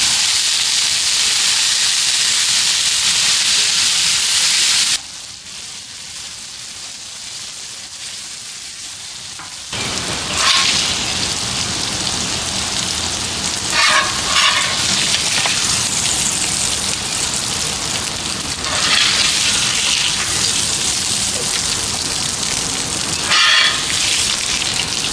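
Ground beef cooks on a Blackstone griddle with a loud, close sizzle. The sound drops to a quieter hiss for several seconds, then surges again with occasional scraping ticks. No voices are heard.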